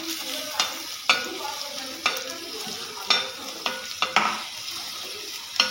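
Ground chili and garlic sizzle on a hot griddle while being stirred, with sharp scraping strokes at irregular intervals over a steady close frying hiss.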